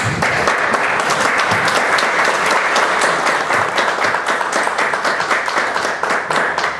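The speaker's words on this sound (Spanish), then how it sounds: "Un aplauso." Audience at a church leadership conference breaks into steady, dense applause that fills the room at full strength from start to finish, with no voices over it.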